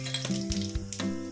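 Cumin seeds and curry leaves hit hot oil for cabbage palya, a close, loud crackling sizzle with a few sharp pops and a brief stir.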